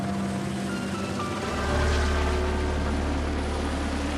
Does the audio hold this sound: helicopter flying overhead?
yes